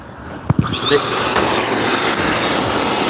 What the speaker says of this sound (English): What's that vacuum?